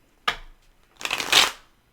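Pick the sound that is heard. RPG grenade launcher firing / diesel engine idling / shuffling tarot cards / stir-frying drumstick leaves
shuffling tarot cards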